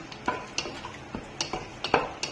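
Cashews being stirred in ghee in a pan for bread halwa: a spatula scrapes and clinks against the metal in a quick, regular rhythm, close up and with no talking.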